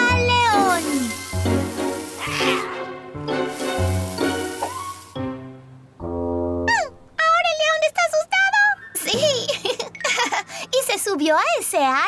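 Cartoon cat meowing in an animated children's show, a kitten stuck up a tree: several drawn-out, pitch-bending meows one after another, loud and close, alternating with bright cartoon voices and chirpy sounds.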